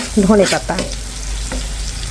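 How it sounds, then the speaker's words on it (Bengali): Blended bottle gourd peel is stirred in a hot pan for a mash, giving a steady sizzle with a few spatula scrapes near the start, close and alone. "এখন আমি নেড়ে চেড়ে খুব সুন্দর করে মিশিয়ে দিচ্ছি"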